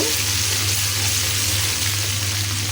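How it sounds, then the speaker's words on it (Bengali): Onions frying lightly in a pan for a rohu fish and green papaya curry, a steady close sizzle with a constant broadband hiss throughout, no talking. "পেঁয়াজটা হালকা করে ভেজে নেব।"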